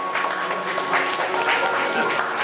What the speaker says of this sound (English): I would just like to get some applause for Arthur, who's helping us out with the food